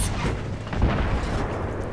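A gunshot in the video game Battlefield 3, fired with a thermal scope at a distant enemy, sounds as a muffled boom that rolls into a low, dull rumble across two seconds of battle noise.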